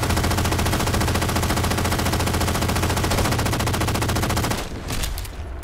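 A rapid automatic gun in Halo 4 fires in a long, loud, unbroken stream of shots for several seconds before cutting off, leaving quieter game sounds.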